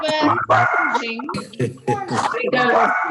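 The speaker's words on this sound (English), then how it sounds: "That's a dog?" A dog gives a few short yips and whimpering barks at home, mixed in with people talking over a group video call.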